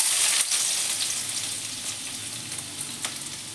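Chopped garlic sizzles in hot oil as the first step toward fried rice, a steady close crackling hiss that holds for the whole stretch with small sputtering pops.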